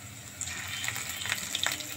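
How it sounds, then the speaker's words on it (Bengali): Onions frying in a pan until they brown, giving a steady close sizzle with faint crackles throughout and no talk. "আমাদের পেঁয়াজগুলো বাদামি হয়ে এসেছে"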